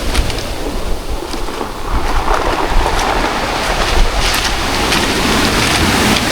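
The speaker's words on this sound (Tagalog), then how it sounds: "Tama mo gaano kalaking alon dyan" Large ocean waves pound the shore of a town after a typhoon, a loud, continuous wash of surf and spray that surges in repeated breaking bursts, close and without pause.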